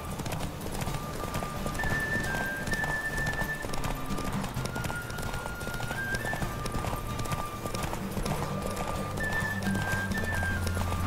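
A horse gallops in a race in the Witcher video game, with steady, rapid hoofbeats running throughout alongside whinnies and light background music.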